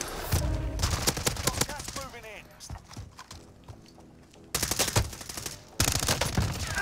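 Rapid bursts of gunfire in a 2v2 online shooter match, dense crackling volleys and pauses under excited voices talking over the action.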